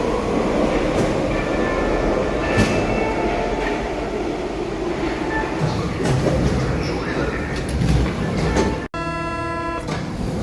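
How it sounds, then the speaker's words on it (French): A metro train arrives, rumbling through a station with steady low roar and rattling, a short chime-like tone sequence near the end; voices murmur underneath. "louper le métro, on va attendre le prochain,"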